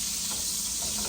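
Salmon fillet frying skin-side down in a pan, a steady close sizzle with faint crackles and ticks running evenly throughout.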